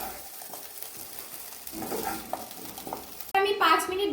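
Hog plum pieces for amra pickle fry in oil in a pan, heard as a soft, close sizzle with stirring scrapes and a few clinks. A voice joins near the end.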